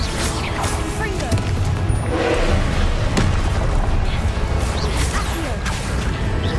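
Confringo blasting spells in Hogwarts Legacy, a run of booms, crashes and whooshing casts going off amid combat, loud and repeated over several seconds with a voice speaking over them.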